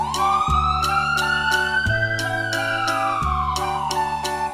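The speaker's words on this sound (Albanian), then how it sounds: "Ambulanca." An ambulance siren wails in one long rising and falling sweep, loud and close, over a steady musical backing.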